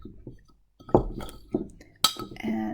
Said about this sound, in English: you could shake it, you could stir it. I'm just gonna, mix it evenly.